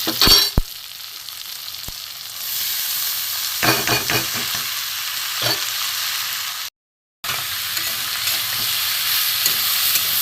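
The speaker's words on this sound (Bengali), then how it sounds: "এবার এটা ভালো করে ভেজে নেবো" Green peas (mung kalai) sizzle and fry in a kadai over crisp red-fried onions, with a steady loud hiss broken by scraping stirs and a few sharp clatters of the spoon against the pan.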